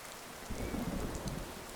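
Steady rain falling in the video game Skyrim, a soft continuous hiss with a low rumbling swell in the middle, quiet and with no voices.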